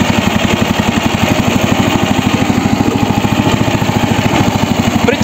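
A homemade tractor's small engine chugs in first gear with a steady, rapid, loud mechanical beat while hauling a grain trailer up a slight incline.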